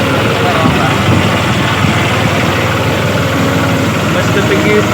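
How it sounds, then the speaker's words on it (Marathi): A tractor engine running steadily during field sowing, a loud continuous drone close by, with a voice faintly mixed in. "मग फास्ट ट्रॅक्टर पण चालू आहे"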